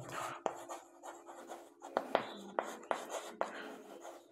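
Pen scratching on paper while working a Class 5 square area math problem, quiet close strokes punctuated by repeated sharp taps in an irregular rhythm.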